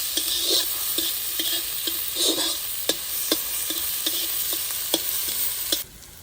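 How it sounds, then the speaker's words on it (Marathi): Onions stir-fry in a hot pan until golden for egg Maggi noodles, a continuous close sizzle broken by regular scraping strokes of the spatula, ending abruptly. "कांदा सोनेरी कलर येईपर्यंत परतून घ्यायचं आहे आपल्याला"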